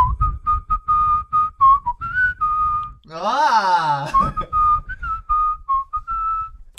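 A person whistles a rapid, bright tune, with short notes, a brief gasp and a sliding vocal wail midway, then more whistled phrases, loud and close.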